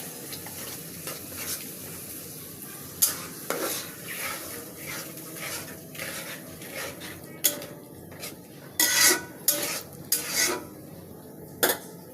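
Ginger and cumin paste frying in a pan under a soft continuous sizzle, punctuated by irregular scraping and clinking strokes of a spoon against the metal, growing sharper and louder toward the end.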